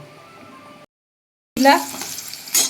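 After a low hum and a brief silence, whole cumin and onion meet hot oil in a sharp burst of sizzling. It settles into a softer hiss, then flares again briefly near the end.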